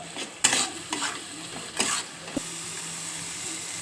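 Pomfret fish frying with salt and turmeric, a soft steady sizzle broken by a few sharp spatula scrapes and clanks against the pan, close and fairly quiet.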